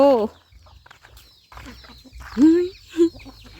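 Chickens cluck loudly and close by on a farm, a few short throaty calls, with faint background voices and rustling.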